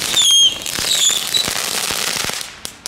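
A crackling fountain firework from HEMA fires loudly nearby as a dense, continuous fizzing hiss peppered with rapid sharp pops and crackles, with a few whistling squeals early on, lasting throughout.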